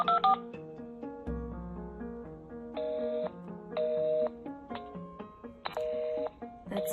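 Telephone keypad tones dialing a call to the Texas Workforce Commission, a quick run of clear DTMF beeps at moderate level with a low hum beneath, no talking.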